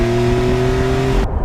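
A Porsche 911 Carrera T's turbocharged engine hums loudly at steady revs with a strong tonal drone, cutting off sharply near the end.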